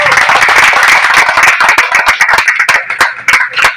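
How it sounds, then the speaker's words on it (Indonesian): A crowd of bikers at a Sunday morning ride gathering claps steadily, a dense, loud round of applause that thins into separate claps toward the end. "kita tepuk tangan lah untuk semua"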